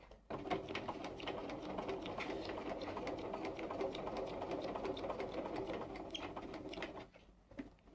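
A home sewing machine stitches at a long stitch length, its steady, fast mechanical whirr running continuously for several seconds before it stops near the end, with no voices.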